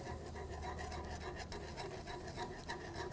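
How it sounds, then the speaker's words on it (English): Whisk scraping in a saucepan as sweetener such as Swerve is stirred in for mint chocolate chip ice cream, a quiet steady rasping rhythm of rapid strokes with no speech. "And whisk it as this is going in, otherwise it's gonna clump."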